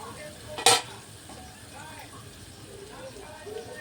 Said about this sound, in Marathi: हे बघा फोडणी कसली भारी लालसर झालेली आहे आपली.